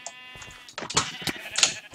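Sheep bleating in the Minecraft mini-game Sheep Quest: several short, close bleats in quick succession among other game sounds, with no talk.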